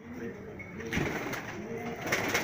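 Golden and teddy high-flyer pigeons coo softly in a breeding loft in Rajsamand, Rajasthan, with low repeated calls layered over a steady murmur and a few brief rustles.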